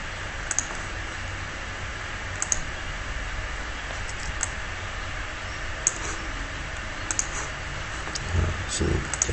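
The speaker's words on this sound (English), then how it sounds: "Then we type our name to it." Typing on a computer keyboard produces sparse, light key clicks in small bursts over a steady background hum.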